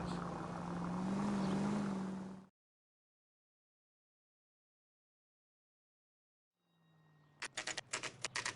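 A car engine in L.A. Noire hums, then cuts to silence; later an engine rises again with sharp clicking bursts as the car pulls out of a driveway.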